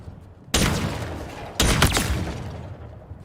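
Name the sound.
Heatwave weapon firing in the video game Halo Infinite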